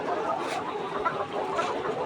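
Layer hens on a poultry farm in hot weather cluck and murmur continuously, several birds close by producing overlapping soft calls with occasional sharper clucks.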